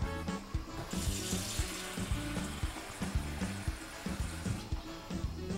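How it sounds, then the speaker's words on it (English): Water is poured into a cooking pot with shrimp and white wine already simmering, a continuous splashing stream over faint sizzling, with rhythmic clatter, all fairly quiet. "So we're going to put some water over it"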